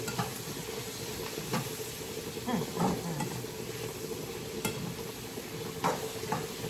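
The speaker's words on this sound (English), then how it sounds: "I'm going to get back to stirring this up because it smells so good" Spoon stirring smothered jackfruit in a hot pot, with soft scraping strokes at irregular intervals over a steady low sizzle and simmer, close and moderately quiet, no talking.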